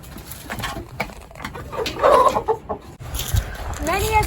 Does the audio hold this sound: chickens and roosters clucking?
yes